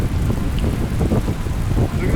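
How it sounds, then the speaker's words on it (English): Heavy rain pounding down in strong gusting wind outdoors on a wilderness canoe trip, a steady dense roar of close drops and gusts with no pauses. "another wave of pounding rain is blowing and is almost upon us"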